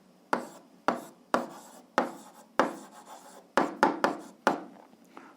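Pen or chalk strokes scratch out a math solution in short, separate bursts, about ten quick scrapes with brief pauses between, close and fairly quiet with no talking.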